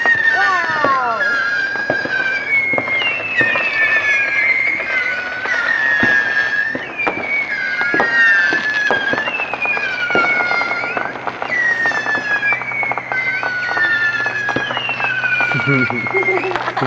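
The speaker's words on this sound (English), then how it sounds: "We get to watch the fireworks for free this year." Fourth of July fireworks seen from a boat on a lake whistle and crackle continuously, with repeated shrieking rising whistles and sharp pops, fairly close, mixed with people talking and exclaiming.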